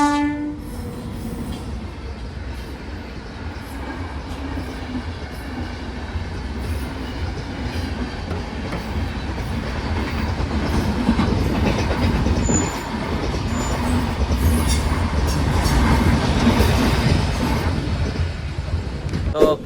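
At a closed level crossing near Khambhaliya, a train rumbles past, its horn sounding early over the low roll of the wagons. The clatter grows louder and nearer toward the end.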